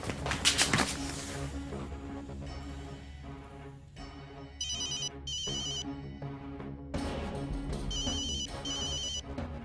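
A telephone rings in a repeating electronic ringtone pattern, with bursts separated by pauses. It sounds fairly clear and close, with no talk over it.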